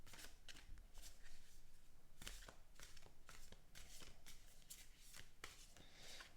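Thick tarot cards being shuffled by hand, a steady run of crisp riffling and flicking bursts, close and fairly loud, with no talking.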